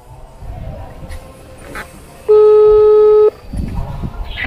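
A single steady telephone tone sounds for about a second while a call is placed to customer service from a roadside in Manado, with traffic and background noise before and after.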